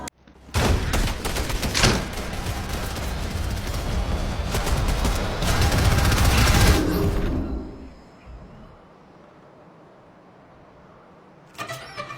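Dense bursts of gunfire and crashing action from a Fortnite trailer roar loudly for several seconds, then drop away to a quiet ambient hush before a brief final burst.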